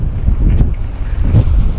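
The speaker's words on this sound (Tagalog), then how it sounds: "Malakas ang hangin." Strong wind buffets the microphone outdoors at a fishing spot by the water, a loud low roaring rush with two gusty swells and no talk.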